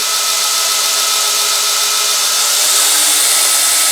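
A Northridge tool grinder spins at its maximum speed with a loud, smooth, continuous high-pitched whine, steady and unbroken, pitch creeping slightly upward, with no talking over it.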